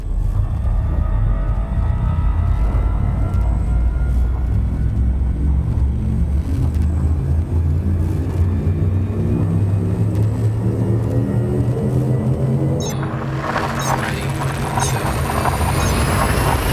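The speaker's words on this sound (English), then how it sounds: "Frameshift drive charging." Frameshift drive charging in Elite Dangerous: a loud rumbling engine drone with rising tonal sweeps builds steadily, then a brighter surge of noise bursts in near the end.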